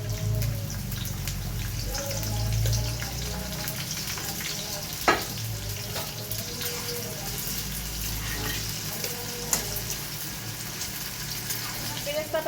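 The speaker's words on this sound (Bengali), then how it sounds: "এখন আমি পেঁয়াজের বেরেস্তাটা ভেজে নেব।" Sliced onions fry in hot oil with a dense, continuous crackling sizzle close at hand, while occasional clinks of a utensil and a voice talking over it come through.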